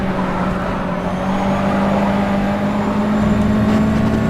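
A USF2000 race car engine in rFactor 2 drones steadily and loudly throughout, a continuous in-car engine tone with no talking.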